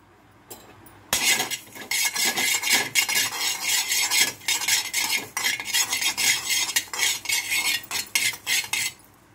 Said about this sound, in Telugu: స్టవ్ వెలిగించి కడాయి పెట్టుకొని జీలకర్ర, మెంతులు, ఆవాలు వేయించుకోవాలి విడివిడిగా